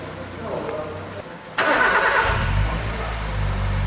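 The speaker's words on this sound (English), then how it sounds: "it's been 2 years since I actually started this bus" A Toyota bus engine that has sat unused for two years cranks briefly and catches, then settles into a loud, rough idle close by, with voices heard before it fires.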